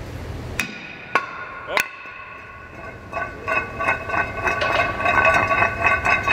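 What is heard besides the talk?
hammering a brake rotor off a Mercedes-Benz CLA 45 AMG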